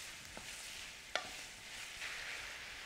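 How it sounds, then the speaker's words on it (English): Shrimp with andouille sausage and garlic sautéing in a pan gives a low, steady sizzle with a few sharp utensil clicks, the loudest near the middle, faint and close, no voices. "I'm going to saute these just until they're pink"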